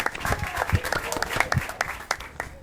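A talk-show audience in Karachi applauds to welcome a guest, with dense, steady clapping throughout and a voice calling out over it.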